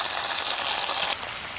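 Mackerel coated in green masala sizzles in hot oil just after being turned, a dense crackling hiss that is steady and close, then drops slightly in strength near the end.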